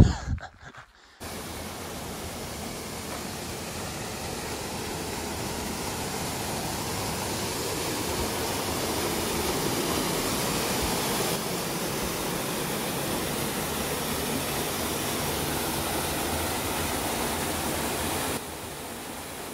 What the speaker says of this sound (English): Oh, that was a cool waterfall.